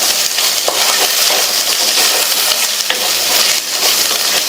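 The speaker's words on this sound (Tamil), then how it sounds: "அடுத்து ஒரு மீடியம் சைஸ் தக்காளியை கட் பண்ணி சேர்த்து இதையும் வதக்கிக்கலாம்." Chopped medium tomato sautéing in a pan, giving a steady broadband sizzle with stirring scrapes throughout, loud and continuous with no talking.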